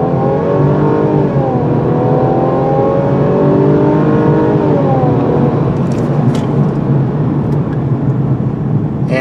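A 2020 Mercedes-Benz C300 Cabriolet engine revs up steadily from a standstill, its pitch rising as it pulls away hard, loud and close, with a droning hum underneath.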